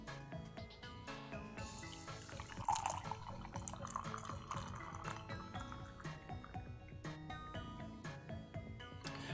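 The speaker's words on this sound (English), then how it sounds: "let's pour a cup of tea" Tea poured into a cup, a trickling, splashing stream of liquid with scattered drips and clinks, faint and close, running for several seconds without talk.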